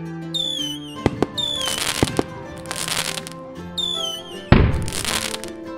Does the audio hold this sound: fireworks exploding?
yes